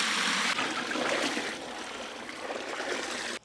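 Water pours steadily into a cooking pot of Rajasthani-style Kabuli pulav with sliced carrot, a continuous loud rushing splash that holds for several seconds before cutting off abruptly.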